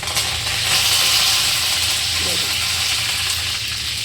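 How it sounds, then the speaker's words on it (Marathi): Garlic hits hot oil in a home kitchen, setting off a loud, steady, close sizzle that hisses on without pause while someone talks over it. "आता मस्त लसूण टाकूया. आता तर खूप जोरात ऐकायला येईल बरं का."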